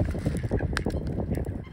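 Swans on a lake in Bergen, Norway, give loud, close honking calls in a rapid overlapping burst, with no talk over them.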